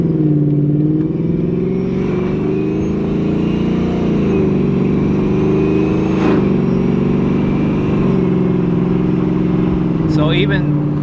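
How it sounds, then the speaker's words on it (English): A supercharged Ford Mustang 5.0 with an MBRP street exhaust and 10-speed transmission accelerates in sport mode, its engine droning loud and steady with slight rises in pitch as it revs, while someone talks inside the car. "So even the little acceleration there, the 10-speed kind of revs up pretty high in sport mode sometimes."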